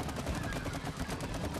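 Rapid continuous shooting at a glowing metal chain in the co-op game It Takes Two, a dense quiet rattle of shots with no talk over it.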